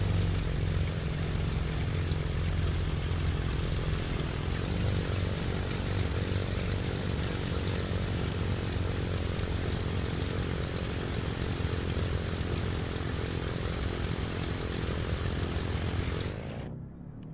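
Propeller engine of a BlackSquare Commander 114 airplane in a flight simulator game, a loud steady droning hum with vibrating tones that holds level for about sixteen seconds before cutting off abruptly.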